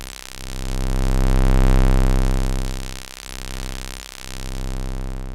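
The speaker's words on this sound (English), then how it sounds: "it's kind of an interesting drone." A sustained feedback drone from an Abstract Data ADE-10 Eurorack module hums with rich, steady harmonics, swelling and dipping slowly in loudness with brief dropouts near the end.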